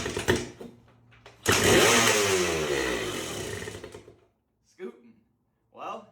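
An old, long-neglected dirt bike engine sputters into life for about three seconds after its carburetor is primed, a loud rough burst that dies away, with brief speech after it.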